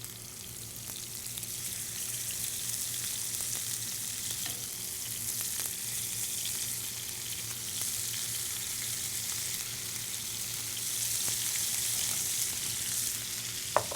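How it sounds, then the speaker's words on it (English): Venison loin sizzling steadily in a hot sauté pan, a continuous crackling hiss at close range with occasional small clinks, no voices. "And that's exactly what we want to hear, the sizzle."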